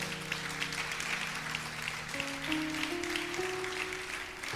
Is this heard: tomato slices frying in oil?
no